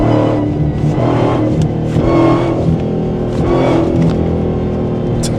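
A Dodge Demon 170 engine revs hard while the car accelerates, a loud deep roar that swells and surges in repeated waves with no talk over it.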